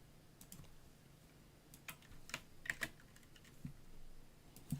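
Quiet, sparse key presses on a gaming computer keyboard, a few scattered clicks in a soft, uneven rhythm with no voices.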